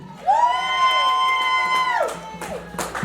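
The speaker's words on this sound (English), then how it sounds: "can you give your ancestors a round of applause?" At a Juneteenth celebration, a single loud, drawn-out whoop rises from the audience and falls away, followed by a brief burst of scattered crowd noise.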